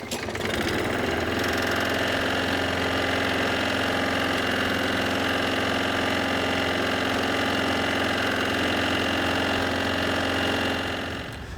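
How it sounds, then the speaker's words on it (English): Walk-behind lawn mower with a bent crankshaft runs steadily outdoors, a loud, continuous buzzing drone with a dull knocking underneath throughout. "you probably noticed a knocking sound coming from the engine"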